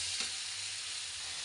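Spice masala sizzles steadily in a kadai for Mughlai-style chicken, a dense close frying hiss with a faint stir scrape near the start and a low hum beneath.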